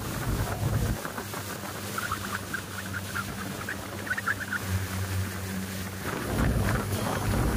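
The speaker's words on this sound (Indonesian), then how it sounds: "ombak sama angin cukup lumayan besar untuk ukuran taksi sungai seperti yang kami tumpangi ini" A small river water taxi motoring through choppy waves and strong wind near a river mouth in Kalimantan, giving a steady loud engine rumble with gusty wind buffeting the microphone throughout.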